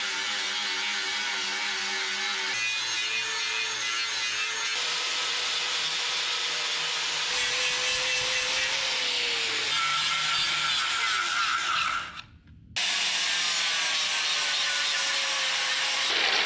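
Flap disc grinding metal during fabrication of DIY coil-over mounts on a 1967 Toyota Stout, a steady loud abrasive whine with shifting pitch running continuously, broken by one brief gap near the end.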